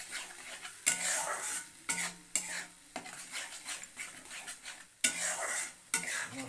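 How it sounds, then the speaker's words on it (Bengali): Spice paste (masala) for shahi aloo dum stir-fried in a pan, with a spoon repeatedly scraping and clanking against the metal over a soft sizzle, in several distinct strokes heard alone and fairly quietly. "মশলাটা এবার ভালো করে কষানো হবে।"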